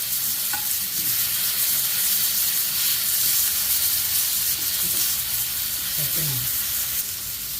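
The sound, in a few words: tomatoes sautéing with onion, ginger-garlic paste in pan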